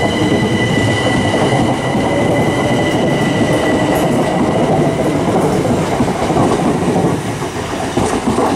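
Southern passenger train running from Eastbourne to London Victoria at Lewes station: a loud, continuous rumble of rolling wheels and carriages with clattering, steady throughout and no voices.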